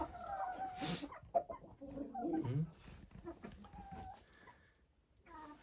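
Chickens cluck and murmur nearby in short, scattered calls, with some bird chatter and light background noise outdoors on snow.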